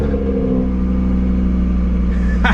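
A 2019 Audi RS3, rebuilt after a wreck, with its engine running at a steady, close idle: a constant low rumble with a firm drone, heard alone without talk.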